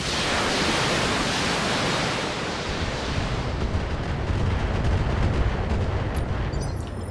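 A missile barrage in the mech combat game BattleTech, heard as a loud continuous roar of rushing launches and blasts with no break, slightly easing and turning grittier toward the end.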